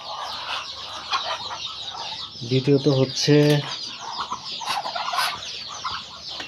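Farm ducks and chickens kept through winter cluck and chatter close by, with a sharper burst midway, while someone talks over them.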